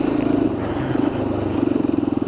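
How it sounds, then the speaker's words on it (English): A motorcycle engine revs nearby with a throbbing, pulsing drone that rises and falls over a couple of seconds. "the engine's like starting to rev out there"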